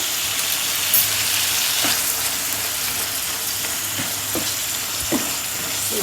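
Cauliflower masala simmering and being stirred in a pan, a continuous hiss of bubbling gravy with occasional scrapes of the spoon against the pan, no talking.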